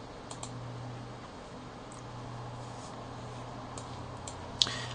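Quiet keystrokes on a computer keyboard, a few scattered soft taps over a low steady background hum, with one sharper click near the end.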